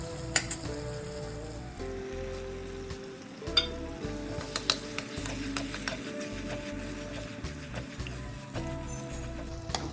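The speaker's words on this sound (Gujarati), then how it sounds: "હવે જે આપણે ઓલી પેસ્ટ કરી છે ઓળાની એ એડ કરી દઈશું" Eggplant paste goes into a pan of frying tomatoes and onions for Kathiyawadi baingan bharta, with soft sizzling and clattering stirring scrapes throughout, fairly quiet and close.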